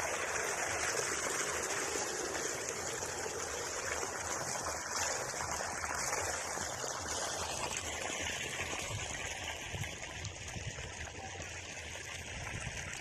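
Water gushes steadily from an irrigation motor pump into a rice paddy field, a continuous close rushing and splashing flow with no talk.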